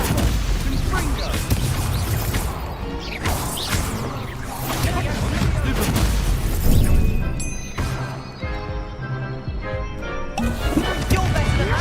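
Confringo fiery blast spell cast in the Hogwarts Legacy video game, amid a busy stream of whooshes, cracking impacts and explosive bursts, loud and dense, with a voice shouting spell names over the combat.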